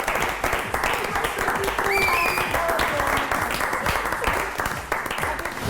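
Applause on a Catalan youth television programme, ongoing clapping from a small group with brief whistling tones and voices mixed in, moderately loud throughout.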